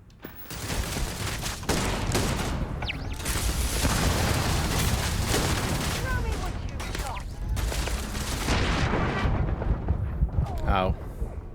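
Shotgun blasts and other weapon fire boom in rapid, dense volleys during a Starfield firefight. The sound is loud and continuous with brief lulls, and a voice is heard at times underneath.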